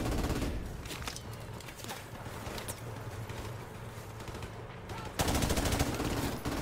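Gunfire from the video game Call of Duty Modern Warfare Remastered, a dense stream of sharp shots and bursts running throughout, with a louder surge near the end and a voice faintly under the shooting.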